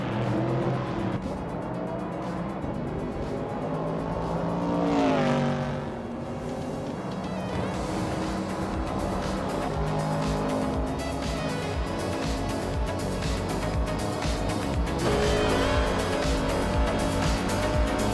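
A 1965 Alfa Romeo GTA races in a Group 2 event, its engine roaring continuously and close, revs rising and falling through gear changes, with other cars' engines blending in.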